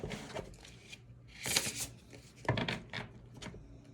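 A Love Oracle card deck being shuffled, soft close rubbing and riffling bursts of cards in quiet, irregular clusters.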